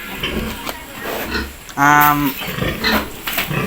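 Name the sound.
pigs on a pig farm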